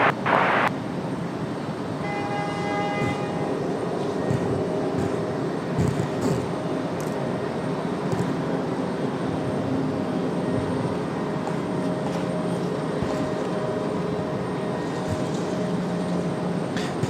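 An airplane takes off at Raleigh-Durham airport, a steady, distant engine roar that holds evenly throughout without voices.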